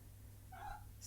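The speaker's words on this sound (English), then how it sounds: "that was my cat" A domestic cat gives a single short meow in a quiet room, faint and brief, with no talking over it.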